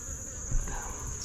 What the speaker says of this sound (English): this is what the bees are up to.